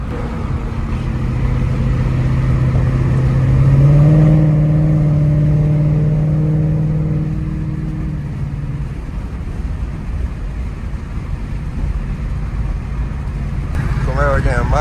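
A ZL1 Camaro engine revs in traffic alongside Mustangs, a swelling harmonic growl that builds and then fades while voices talk over it.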